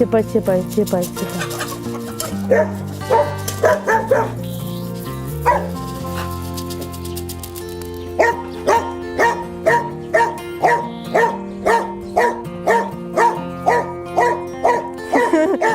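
A dog barks in a quick repeated series, close and loud, while hens cluck nearby and a person speaks briefly.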